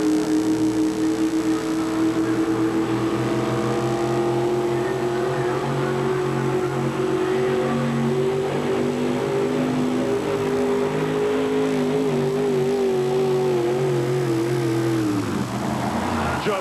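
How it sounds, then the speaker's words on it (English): Loud 1951 Chevrolet show-quality truck with a Pontiac engine pulling at an NTPA four-wheel-drive tractor pull, a sustained roaring engine drone with a steadily rising and wavering pitch that holds for the whole run before cutting off sharply near the end. "in a sharp-looking 1951 Chevrolet, powered by Pontiac underneath the hood, and a good-looking show-quality truck"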